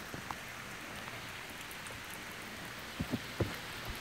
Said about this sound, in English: starting to rain again